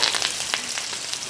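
Curry leaves crackle and sizzle in hot oil, a steady close frying hiss dotted with quick pops, alone without talk.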